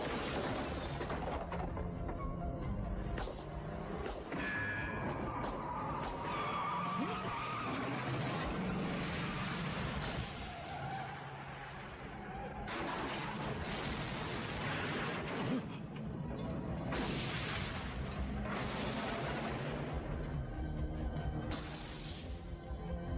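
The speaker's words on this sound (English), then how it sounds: "Michael escapes, destroying Loomis's car and knocking down a load of telephone poles" In a scene from the 1988 film Halloween 4, a car skids with squealing tires and crashes into telephone poles, the sound full of loud impacts, breaking debris and rumbling, alongside brief dramatic noise.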